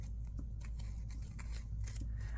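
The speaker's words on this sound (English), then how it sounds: "let's trim this off at the bottom" Scissors trimming file folder paper, a few crisp snips in quick succession, close and faint over a low steady background hum.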